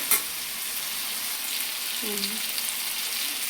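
Steady sizzling of a fish curry frying in a pan, hissing broadly and evenly throughout, with a short soft clunk near the start and a brief faint tone midway.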